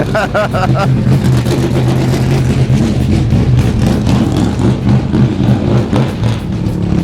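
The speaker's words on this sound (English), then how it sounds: "This green car is a Dodge Viper. It's a modern race car." A Dodge Viper modern race car roars steadily on a race track, its loud engine droning without a break and mixed with other track noise and voices.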